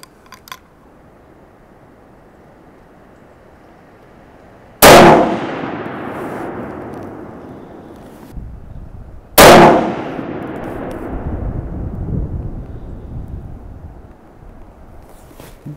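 Two loud rifle shots from a Browning 1885 single-shot with a new barrel, fired outdoors several seconds apart, each a sharp crack followed by a long rumbling echo fading into wind.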